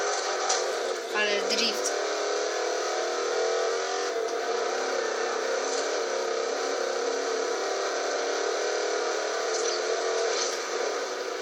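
A car drifts in a racing video game, its engine whining steadily at high revs with tire screech, a continuous game-like drone without breaks.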